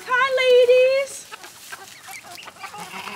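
Hens clucking on a ranch in Florida, with a loud drawn-out squawk up front followed by scattered nearby clucks and chatter from the flock.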